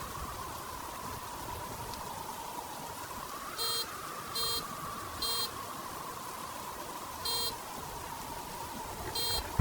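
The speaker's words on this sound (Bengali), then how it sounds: "মনে হলো গাড়ির হর্ন।" Cartoon-style car horn beeps sound through a stormy night, five short electronic honks spaced irregularly over a steady background of rain and wind, fairly faint and distant.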